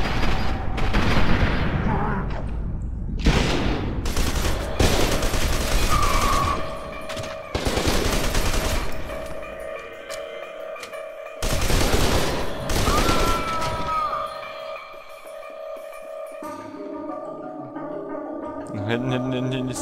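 Automatic weapon fire in the shooter video game F.E.A.R. 2: Project Origin, loud repeated bursts separated by short pauses, with game effects and someone talking over parts of it.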